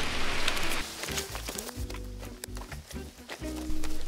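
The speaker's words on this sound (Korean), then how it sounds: "발소리 들리는 것 같다." Footsteps crunch and thud in a steady walking rhythm over a low rumbling soundscape in the video game Escape from Tarkov, with rain-like hiss in the background.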